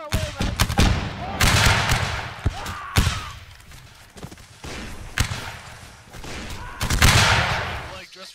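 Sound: gunfire volley in a video game battle

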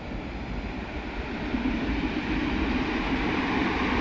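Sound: small train passing by

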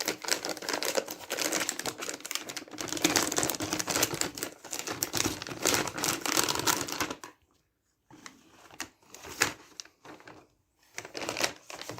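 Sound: peeling protective tape off an MSI RTX 3060 Ti graphics card

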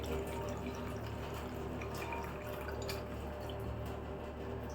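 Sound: water being poured into pani puri mix

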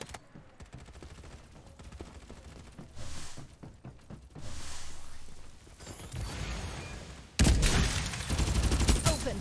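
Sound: gunfire in the video game Farlight 84

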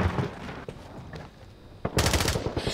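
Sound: gunfire at the player in video game Modern Warfare

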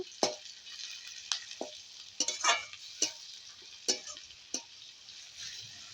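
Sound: stirring chopped onion, chilli and garlic frying in pan

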